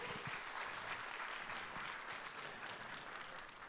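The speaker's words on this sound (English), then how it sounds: "Give a big round of applause for Mr." An audience at a conference claps warmly for a speaker, sustained steady applause throughout at a fairly distant, even level.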